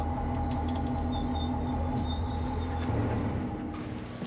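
A Rocky Mountaineer passenger train brakes to a stop, a loud, sustained metallic squeal of wheels with steady high tones over a deep rumble, gradually easing near the end.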